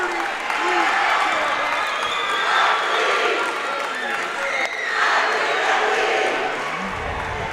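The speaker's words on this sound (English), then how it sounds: "And the crowd chanting." A crowd at a high school Class B district championship basketball game roars and chants loudly and continuously, rising and falling in waves, with a few shouts standing out above the mass of voices.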